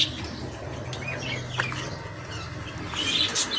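Pet birds chirp in short, scattered tweets over a steady low hum, several calls brightening near the end, close by indoors.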